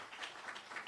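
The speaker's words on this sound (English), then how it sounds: "You can clap for your dad." Brief, soft patter of audience clapping during a Tennessee Titans head coach introduction, applauding new coach Mike Vrabel's family, a short steady burst heard alone.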